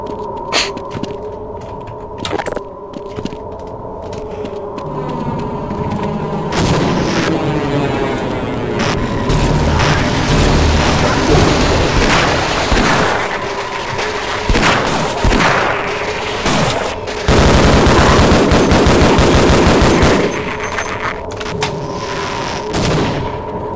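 An island exploding in Half-Life: Blue Shift sends out a long stretch of loud, dense blasts, rumbling booms and crackling debris. Sharp bangs repeatedly punctuate a sustained roar over more than twenty seconds.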